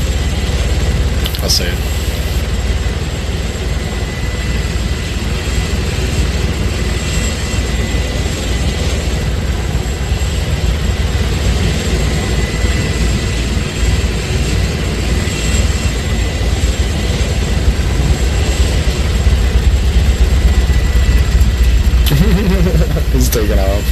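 Helicopter in the Arma 3 game, a Blackfoot, roaring steadily with a loud low engine and rotor drone throughout, a voice speaking briefly over it.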